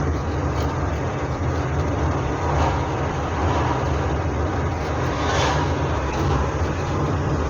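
Hillman Superminx engine idling with a newly fitted water pump, a steady low rumbling drone with a mechanical whir that holds even and continuous throughout, recorded up close with no voices.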